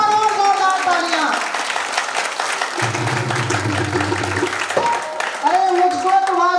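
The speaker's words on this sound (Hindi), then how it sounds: "एक बार और जोरदार तालियां।" An audience breaks into loud, sustained applause at a Louis Braille birth anniversary ceremony, with voices and singing carrying over the clapping throughout.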